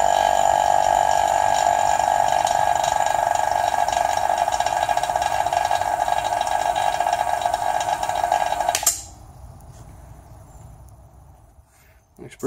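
A vacuum pump running during a speedboat build, a loud steady mechanical drone with a rapid ratcheting pulse for about nine seconds, then cutting off to near quiet.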